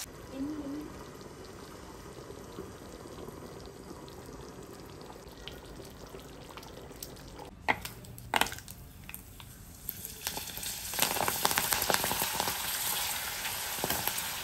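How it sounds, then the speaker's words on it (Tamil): A pot of curry bubbles and sizzles steadily on the stove, with a few clanks partway through and the bubbling growing louder near the end. "இன்னும் ஒரு நிமிஷம் குழம்பு கொதிக்க வைக்கிறேன்"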